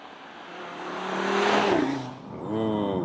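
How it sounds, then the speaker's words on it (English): Audi RS Q3 five-cylinder engine revving up in a rising, growling sweep that peaks and drops, then climbs again in a second rev, close and fairly loud. "Audi RS Q3, that 5-cylinder."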